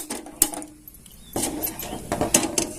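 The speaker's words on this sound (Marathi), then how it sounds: "कढई ठेवून घेतली" A metal wok clanks down onto a gas stove, followed by a few more scrapes and knocks of cookware nearby.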